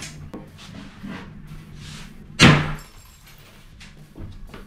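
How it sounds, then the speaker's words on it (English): Porcelain coating shatters off a cast iron bathtub during a hall bathroom remodel, one sharp loud crack-and-crumble burst amid faint background knocks. "It's a porcelain coating on a cast iron. And that's what's shattering off."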